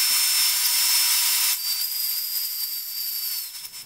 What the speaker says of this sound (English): I'll take it on my bandsaw and shave it down nice and even